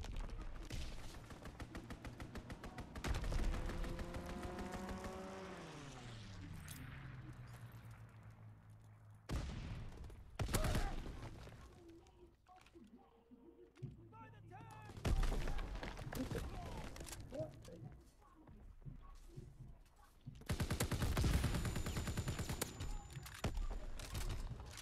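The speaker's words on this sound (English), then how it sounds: "Strafing run inbound." Call of Duty: WWII team deathmatch strafing run, with bursts of heavy gunfire and booming impacts coming in loud clusters separated by quieter gaps, with some game voice chatter in between.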